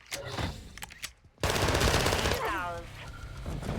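Gunfire in Call of Duty: Modern Warfare II, a multiplayer match where a shotgun scores a double kill; loud, dense bursts of shots and explosive noise crowd the clip after a brief quiet gap, with voices faintly mixed in.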